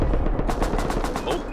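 Automatic rifle gunfire in the Rust video game, a rapid even burst of about a dozen loud close shots in quick rhythm, lasting under two seconds.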